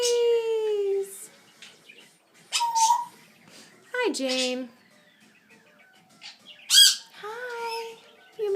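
A household flock of pet parrots, including an African grey, cockatiel, sun conure, Indian ringneck, parakeet and Amazon, gives close, loud squawks, whistles and chirps in scattered bursts, with a person briefly talking between them.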